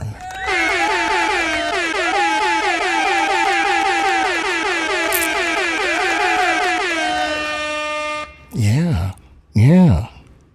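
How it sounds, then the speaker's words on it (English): Air horn blasts repeat in a long, loud, rapid stutter of pitched honks, then cut off, followed by two short separate swooping blasts. "You get an air horn."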